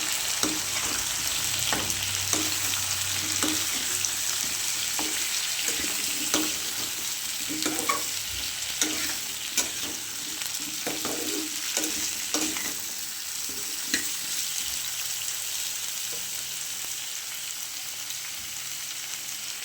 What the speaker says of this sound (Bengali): আলু, বরবটি, কুমড়ো দিয়ে ভেজে নেব।